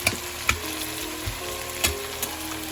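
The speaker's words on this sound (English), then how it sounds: "And it's gonna sizzle up." Food frying in a pan for steak night, a steady sizzle with a few sharp clinks and scrapes of stirring, close and moderately loud with no talking.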